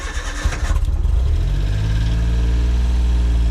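A Suzuki Cara AZ-1 kei car with a Keisport plug-in ECU, cold-starting: a brief rapid starter crank, then the small engine catches and settles into a loud, steady, close idle.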